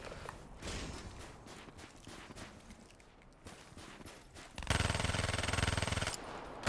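Automatic gunfire from the video game Vesper: faint scattered shots at first, then a loud, dense, sustained burst of rapid fire lasting about a second and a half near the end.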